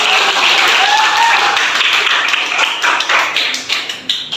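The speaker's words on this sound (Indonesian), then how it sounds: "Tepuk tangan untuk kita." A class in a school coaching session breaks into applause, a dense burst of clapping that thins out into scattered claps over about four seconds, with faint voices beneath.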